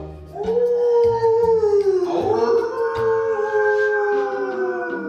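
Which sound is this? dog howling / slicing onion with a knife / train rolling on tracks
dog howling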